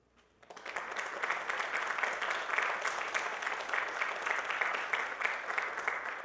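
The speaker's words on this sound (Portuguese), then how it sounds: "queria uma salva de palmas para os nossos dois convidados" Audience applause welcoming two professors as guests onto an economics panel, rising after a brief quiet start into steady, dense clapping that holds at an even level with no talk over it.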